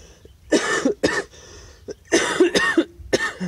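A person getting over a cold coughs in close, harsh bursts, a cluster of coughs followed by a pause and then another run of hacking coughs, with no talking.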